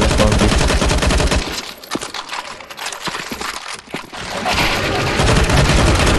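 Sustained, loud automatic gunfire fills a CS:GO zombie escape match as players shoot at zombies, the rapid bursts dipping briefly mid-way before surging back at full intensity.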